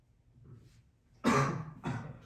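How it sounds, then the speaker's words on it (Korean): A person coughs twice in a quiet room during a high school math lesson, two short, close, rough bursts following a faint throat rumble. "기침한다"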